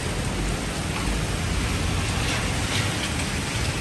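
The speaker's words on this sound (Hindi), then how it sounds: "बहुत तेज़ बारिश हो रही है।" Heavy rain pours down in a dense, loud, continuous hiss that stays steady with no pauses, and no voices come through over the downpour.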